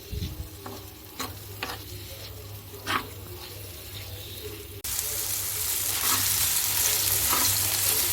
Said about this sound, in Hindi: ऑयल तेज आंच पर पकाएंगे ताकि टमाटरों का पानी भी खुश्क हो जाए और कीमा भी अच्छे से भुन जाए।